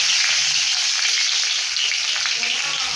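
Crushed garlic and black cumin seeds frying in mustard oil give a steady, dense sizzle that holds evenly close by the whole time, with no talk over it.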